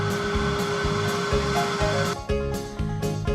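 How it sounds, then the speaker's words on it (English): Vacuum cleaner running over a floor being fitted with LVT flooring, a constant loud whooshing drone with a few brief bumps and shifts in tone partway through. "So now Carissa gets to vacuum again."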